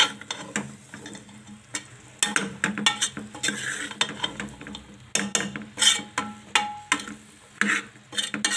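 Aloo gobi sabzi is stirred in a pan dhaba style, with repeated scraping and knocking of a spoon against metal in an uneven rhythm, close and without speech.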